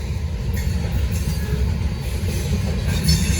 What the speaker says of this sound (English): We got a loaded rail train.